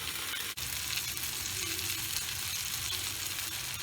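Eggplant, chillies and tomatoes fry in a pan with a steady, close sizzling hiss and a single sharp tap near the start.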